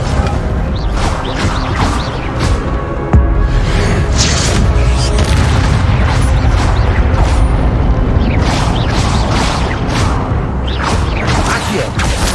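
Spell-casting effects in the Hogwarts Legacy video game burst out in a rapid string of whooshing booms and crashes, loud and near, repeating every second or so with no pause between them.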